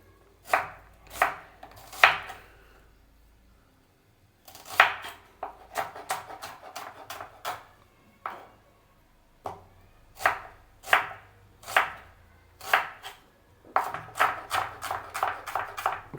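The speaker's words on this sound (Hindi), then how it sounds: "ऐसे ही सेम कटना है। क्योंकि मोटा प्याज अच्छी ग्रेवी।" A knife chops onions into thick pieces on a board for Champaran mutton gravy, sharp rhythmic thuds in quick runs with brief pauses, close and clear with no talking.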